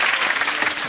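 A comedy panel show's studio audience keeps up brief, thick clapping at an even, steady level.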